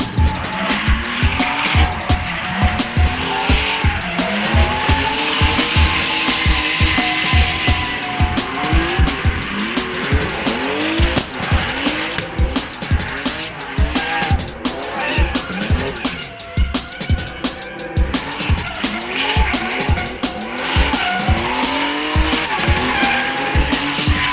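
A BMW M3's engine revs hard and continuously while tires squeal and screech through long drifting slides, loud and close throughout.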